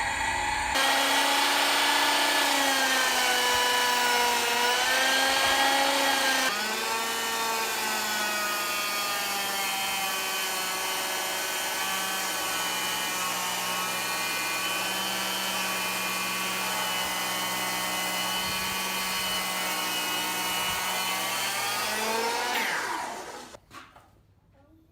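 A gear-driven timber framing saw making a 6 1/4 inch cut runs steadily with a loud, slow-churning whine that holds for over twenty seconds, then winds down at the end.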